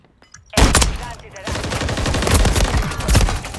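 A sniper rifle shot in Call of Duty MW3 cracks sharply after a quiet lead-in, followed by a burst of further loud gunfire and rumbling battle noise lasting a few seconds.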